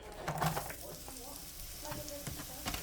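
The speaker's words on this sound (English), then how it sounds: "Now that the butter has melted, I'm going to go ahead and stir in the onion" Onion stirred into melted butter in a pan, giving a soft, low sizzle with the scrape and clatter of a utensil moving the pieces around, quiet and close.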